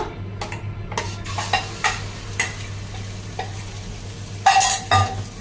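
Beaten egg and onion omelette mixture frying in hot oil, crackling sizzle punctuated by sharp spoon-on-pan scrapes and clinks at irregular intervals, close and fairly loud, with a low steady hum underneath.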